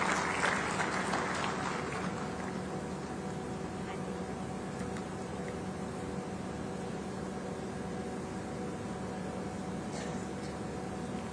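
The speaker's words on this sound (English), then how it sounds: "a big round of applause for the chairperson" Conference audience at a capital markets event giving a round of applause for the SEBI chairperson, a diffuse, fairly faint wash of clapping across a large hall that holds steady before thinning out.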